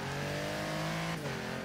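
Engine of a Mercedes AMG G65 revving in the racing game Forza Horizon 3, a loud sustained mid-pitched roar that drops in pitch near the end of a short burst, alone without talk.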